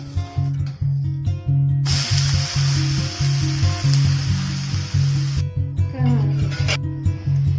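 Chana dosa sizzling in oil on a pan, with a steady bright frying hiss that swells strongly in the middle, over a low repeating hum and some talk.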